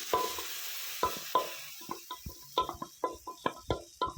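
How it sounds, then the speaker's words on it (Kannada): Mashed rice is added to a hot tempering for bisi bele bath. A faint sizzle sits under quick, uneven spoon taps and scrapes against the pan that grow more frequent toward the end. "ಇದು ಒಗ್ಗರಣೆಗೆ ಹಾಕೋತಾ ಇದ್ದೀನಿ"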